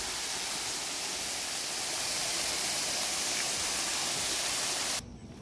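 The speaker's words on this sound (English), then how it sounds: "It's supposed to be some sort of waterfall over here." An artificial waterfall in a park gives off a loud, steady broadband rush of falling water, close and unbroken, that stops abruptly near the end.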